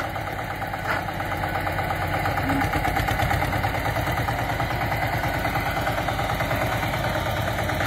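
An Eicher tractor engine runs steadily close by, a loud, even diesel chug with a rapid rhythmic knock that holds throughout.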